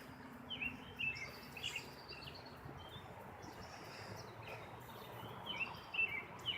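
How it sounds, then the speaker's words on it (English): Songbirds chirp and tweet in scattered short bursts from a wooded area in Ohio, fairly faint over a steady bed of wind and outdoor rumble. "So you've got a variety of birds that are out here in the wooded area back here."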